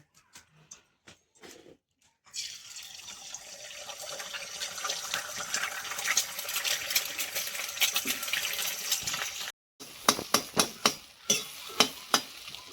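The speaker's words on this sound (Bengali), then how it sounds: "একটু ঝুরঝুরে করে ভেজে নেব।" Five beaten eggs hitting hot mustard oil in a wok and being scrambled, a burst of loud sizzling after a few light clinks, then sharp spatula scrapes and taps against the pan near the end.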